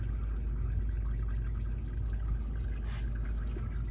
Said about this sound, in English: Got some coolant draining out.